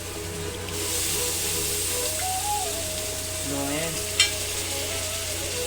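Chicken goes into masala frying in a pan for chicken curry, giving a loud, continuous sizzle with a single metallic clank of a utensil partway through.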